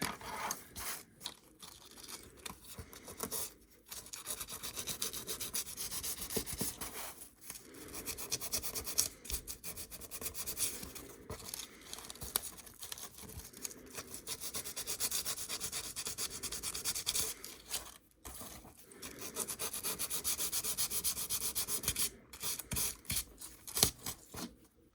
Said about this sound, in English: let me do some more sanding.